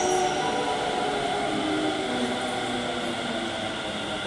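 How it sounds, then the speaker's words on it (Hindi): A Delhi Metro Pink Line train arrives at the platform with a steady loud rumble and whine of wheels and motors that holds evenly from start to finish. "मेट्रो आ गई,"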